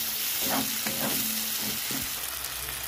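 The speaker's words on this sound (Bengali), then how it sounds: "টমেটোটা দিয়ে দেবো, ভালো করে নেড়ে চেড়ে নেব।" Baby potatoes and tomato stir-fry in a pan under a constant, close sizzle, with a few dull scraping stirs.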